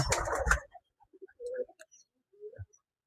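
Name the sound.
Rajshahi Giribaj pigeons cooing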